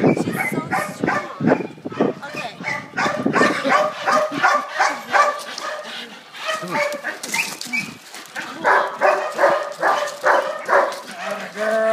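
A dog barks repeatedly and whimpers close by during a bite-training session with a sleeve, urgent rhythmic barking mixed with whines while people talk over it.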